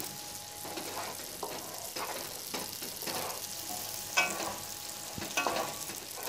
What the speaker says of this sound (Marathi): आता हे वाटण आहे ना चांगलं मिक्स करून घ्यायचं आहे तेल सुटेस तोपर्यंत